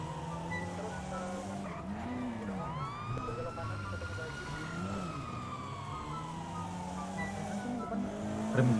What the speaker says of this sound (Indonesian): Kencang betul sih itu mobil Sentra, cowo.